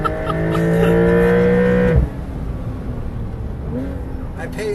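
Porsche Carrera GTS cabriolet revving hard on a race track, engine pitch climbing loudly and then cutting sharply, leaving a lower cabin rumble; voices are heard in the car.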